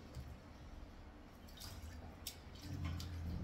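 Water pours steadily into an electric kettle, a soft, continuous trickling and splashing heard up close and fairly quiet.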